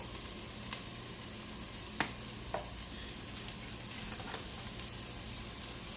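Vegetables sautéing in a pan for a vegan Jamaican cabbage dish, giving a quiet steady sizzle with a few faint crackles and pops, no voices.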